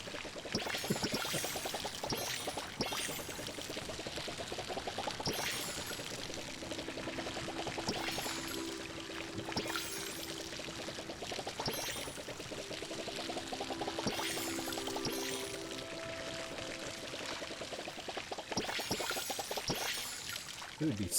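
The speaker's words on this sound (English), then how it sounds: "And now we water them, give them all a tasty little drink." Watering plants in the video game Palia gives a steady pouring, trickling water sound that runs throughout, with soft background music and occasional splashy bursts.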